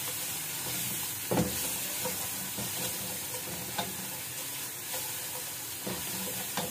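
Chicken keema with capsicum sizzles steadily in a pan close up, with occasional scrapes and clacks from stirring breaking through the constant frying hiss.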